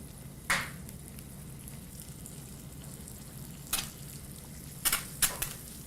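Eggs frying in a pan on a stovetop with the heat turned off: a soft, steady sizzle runs low throughout, broken by a few sharp clicks and scrapes of a spatula.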